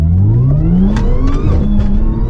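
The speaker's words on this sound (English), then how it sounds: "the supercharger. Oh, I hope you can hear that." Supercharged Audi S4, recovered from fire damage, revving hard on a drive, with rising engine tone and supercharger whine sweeping upward, loud and close with no talking.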